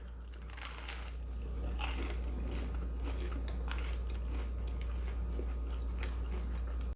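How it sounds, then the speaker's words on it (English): Crunchy bites and steady chewing of Aldi gluten-free garlic toast, close to the ear over a constant low hum, with several sharper crunches across the stretch. "we're going to try our Aldi gluten-free garlic toast"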